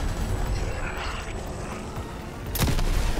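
A loud boom erupts near the end in the video game Black Ops Cold War Zombies, Onslaught mode, after a few seconds of rumbling game noise.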